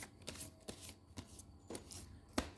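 A deck of tarot cards is shuffled by hand in a series of quiet riffling bursts, roughly five or six short rustling strokes spaced about half a second apart, close by and soft, with no speech over them.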